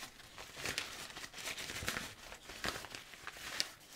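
A plastic bag around a 3-in-1 handheld vacuum cleaner and air duster crinkles and rustles close up in irregular bursts as it is unpacked.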